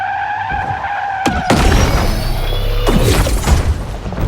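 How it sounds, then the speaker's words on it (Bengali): A car crashes in the mobile racing game Need for Speed Mobile, with tire skids and loud impact booms, sharp hits near 1.3 and 1.5 seconds, then a roaring, scraping tumble and another crash near 2.9 seconds. "শিট, এখন অ্যাক্সিডেন্ট হয়ে গেছিল আবার।"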